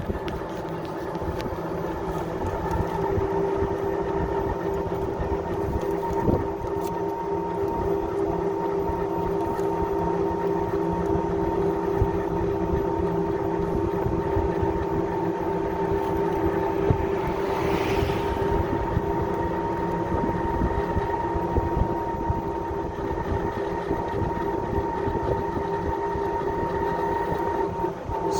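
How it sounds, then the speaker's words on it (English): A golf cart drives steadily through a flat RV resort, its motor giving a continuous high whine over a dense rumble of road and wheel noise, unbroken for the whole stretch. "Sorry about the noise of the golf cart."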